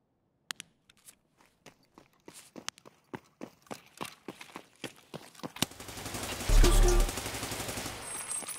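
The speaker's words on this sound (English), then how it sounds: "The hell's shooting at you?" Rapid sharp shots crack out in a steady rhythm in Escape From Tarkov, then merge into a louder sustained burst of fire with a heavy thump near the end.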